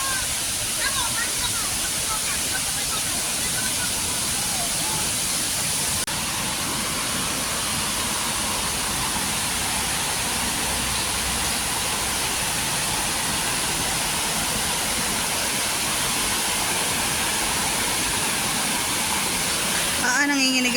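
Waterfall at a paid-entrance falls, a steady broadband rushing roar of falling water, continuous and fairly close, with a faint voice at times.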